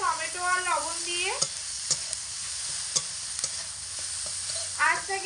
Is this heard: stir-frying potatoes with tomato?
yes